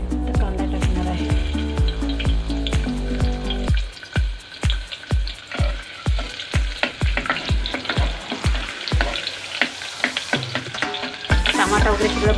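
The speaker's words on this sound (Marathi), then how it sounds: "माप तेल टाकणार आहे। कांदा टाकणार आहे।" Chopped onion fries in oil in a pan for dal with mushroom. A continuous sizzle runs throughout, broken by sharp, regular spoon scrapes and stirring clicks, close and loud. Tonal sounds are heard at the start.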